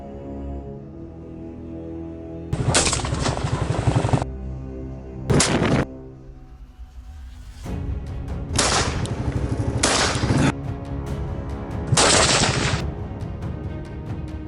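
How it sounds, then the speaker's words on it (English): Loud rifle gunshots fired at wild boar during a hunt, several sharp blasts with long echoing tails in bursts across the stretch, over steady outdoor background noise, no talking. "With one precise shot, he successfully brings down the animal, and the rest of the herd scatters into the bushes."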